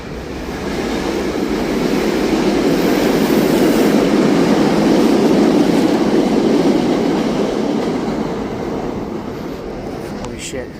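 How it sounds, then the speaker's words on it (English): A train passes close by on railroad tracks in Philadelphia, a loud, sustained rumble and rattle that swells and fades over about ten seconds, with no talking over it. "Fuck, here comes the train."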